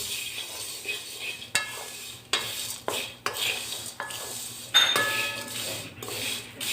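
A mango seed mouth freshener mixture is stirred in a pan, with repeated scraping and clinking strokes of a spoon against metal in an uneven rhythm over a light sizzle.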